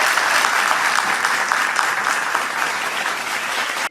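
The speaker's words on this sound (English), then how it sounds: "Please give a big round of applause to Atmaram." A gathering at an LTIPS alumni meet in Pune applauds the chief guest. The clapping is full, dense and continuous, holds steady for several seconds, then cuts off sharply at the end.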